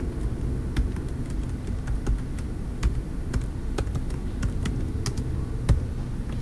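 Computer keyboard typing while a DOS command is entered on a Linux system: scattered, irregular key clicks over a steady low rumble, no talk.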